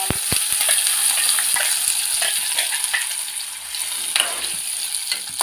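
Ground peanut chutney sizzling in a hot pan with oil and turmeric, a steady bright fry under scattered spoon scrapes and clinks as it is stirred.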